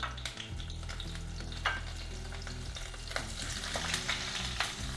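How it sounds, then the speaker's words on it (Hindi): Paneer frying lightly in a pan for a no onion, no garlic veg biryani, giving a steady close sizzle with occasional stirring scrapes and clicks throughout, with no talking. "हल्का सा पनीर को फ्राई कर लेंगे"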